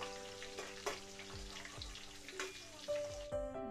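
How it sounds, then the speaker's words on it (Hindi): Okra (bhindi) frying in a pan for masala bhindi gives a quiet, steady sizzle with faint clinks and stirring, plus a thin tonal hum near the end. "भिंडी फ्राई हो रही है, तो इन सब हम सारी भिंडी को फ्राई कर लेंगे।"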